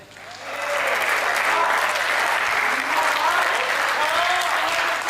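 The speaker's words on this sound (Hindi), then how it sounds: "तालियां बजानी है तो मिलकर एक बार बजा दीजिए" A Hindi kavi sammelan audience at a humorous poetry recital breaks into dense, sustained applause that swells within half a second and holds steady and loud throughout, with no talking over it.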